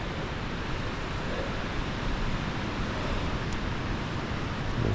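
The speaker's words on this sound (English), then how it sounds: "There's a river or creek down there." A river or creek rushes somewhere below in a forest, a continuous even hiss of flowing water that stays steady and moderately faint throughout.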